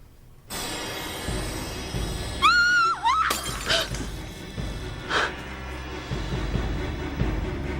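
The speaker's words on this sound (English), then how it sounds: "dropped a glass" A glass is dropped and shatters on a hard floor during a TV soap opera scene, with a sharp crash followed by tinkling fragments against a steady background hum.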